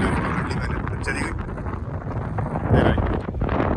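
Strong wind at the top of the Eiffel Tower roars steadily and loudly across the microphone in buffeting gusts, while someone talks through it.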